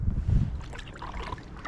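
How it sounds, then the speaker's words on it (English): Wind blows into the face of someone kayaking on the Grand River between Lansing and Grand Ledge. It rumbles and buffets loudly at first, then eases to a softer rush with faint water sounds. "the wind is blowing in my face"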